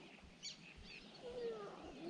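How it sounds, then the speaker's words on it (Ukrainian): Birds call by a pond on an evening fishing trip, with a few thin chirps and whistled notes at a distance over a soft outdoor hiss. "Пташки кричать."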